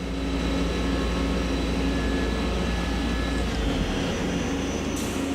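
A Hardinge CHNC-III CNC lathe spindle runs steadily at 3500 RPM, giving a constant loud mechanical whine and hum with sustained tonal lines and no break in level.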